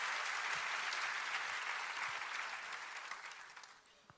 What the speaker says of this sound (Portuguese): Você pode aplaudir ao Senhor pela sua palavra agora?